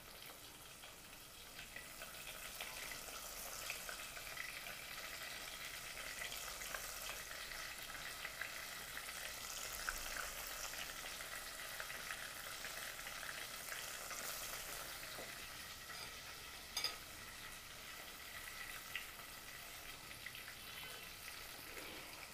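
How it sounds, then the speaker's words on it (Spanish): Chicken pieces frying in oil for the Peruvian-Chinese dish chi jau kay give a faint, continuous crackling sizzle with occasional small pops, steady throughout and with no talking. "mientras el pollo se va friendo"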